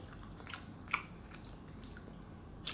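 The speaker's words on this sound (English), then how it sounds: "Okay, let's take a bite." Someone bites and chews Nissin Cup Noodles roasted sesame ramen, faint soft squishy chews and a few small clicks over quiet room noise.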